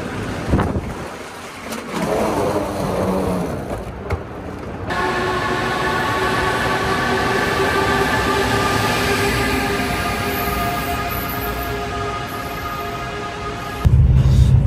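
A train moves at a railway station in Saudi Arabia on a trip to Madinah, with a steady close rumble and whining mechanical tones that build and hold, ending on a sudden louder rush.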